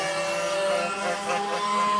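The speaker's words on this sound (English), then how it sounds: "Yamaha KT 100 engine" Several Yamaha KT 100 kart engines race at a speedway during a night race meet. The close, high-pitched buzzing drone is steady and layered, and no one speaks.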